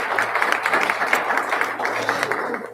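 Brief burst of audience applause at a school district board of trustees meeting, a room of people clapping steadily for a couple of seconds, close and lively.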